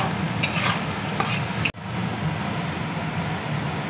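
Green chili, salt and capsicum stir-fried in a pan for noodles, a close steady sizzle with scraping stirs that cuts off abruptly partway, then softer frying continues alone.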